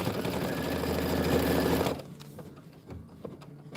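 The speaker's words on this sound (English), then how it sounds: "We've got a gorgeous butterfly to stitch out." An embroidery machine stitches out a butterfly design with a rapid, even mechanical whirring and clatter, then stops abruptly halfway, leaving quiet room noise and faint clicks.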